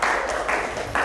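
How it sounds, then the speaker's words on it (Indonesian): Students in a classroom give a short burst of applause for a presenting group, with brisk, dense clapping that swells and dips across the room. "tepuk tangan dulu buat kelompok 4."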